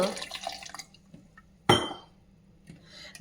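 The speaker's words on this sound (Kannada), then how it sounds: "ಸ್ವಲ್ಪ ನೀರು ಹಾಕ್ಕೊಂಡು" Water is poured over washed urad dal in a container, ready for grinding into idli batter. A short trickle is followed by a sharp splash and faint dripping, close and without voices.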